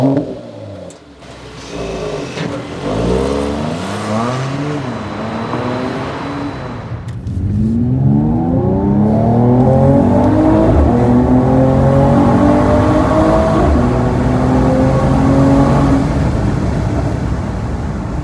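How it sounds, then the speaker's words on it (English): A Mercedes-Benz AMG E53 coupe, a turbocharged engine with electric assist, pulls hard from a launch: a brief lull, then a loud rising engine howl climbing through several gear shifts, close and sustained with no talk. "right from the foot down on the throttle, bam, power from the electric motor, and then to the engine, turbos kick in"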